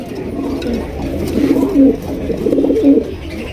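A male homing pigeon coos in low, throaty bursts, two rolling calls close by over a soft background.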